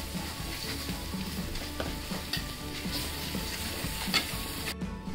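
Spices are stirred and mixed in a hot pan with salt for Punjabi kadhi pakora. A steady low sizzle runs under repeated scraping strokes of the spoon, close and fairly quiet, with no talking.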